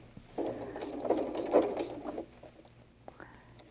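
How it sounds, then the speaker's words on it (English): A sewing machine back stitches at the start of a seam on a fabric bunny doll, running in a single steady burst of about two seconds at moderate, close volume before trailing off into quiet handling sounds. "I am definitely going to back stitch as I get started here"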